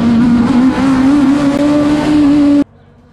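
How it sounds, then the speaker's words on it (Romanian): Rally race car at speed on the Trofeul Sinaia 2019 hill climb course, a loud sustained engine note with a rising whine held for over two seconds, then cutting off abruptly to near silence. "Mai urmează o singură mașină, îl așteptăm pe Nestor, pe Emil Nestor, să vedem ce timp obține"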